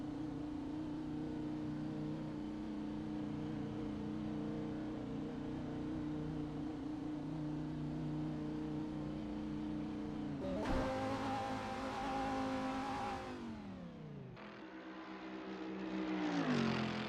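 Huracan GT3 race car engines in a racing game at Le Mans, a sustained loud engine drone holding steady, then a sharp rise into high revving that drops away and climbs again near the end.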